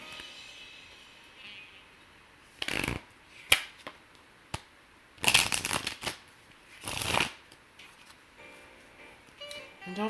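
Tarot cards are shuffled close up in several short, crisp riffling bursts separated by quiet pauses, with a few light taps between them.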